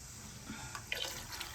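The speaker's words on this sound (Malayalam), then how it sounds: "അതിന് അപ്പോൾ ഒരു കുറച്ചും കൂടി വെള്ളം ഒഴിച്ചെടുക്കുന്നുണ്ട്" Water is poured into rice for a chickpea biryani, a faint, steady splashing trickle lasting just over a second, quiet and close with no talk.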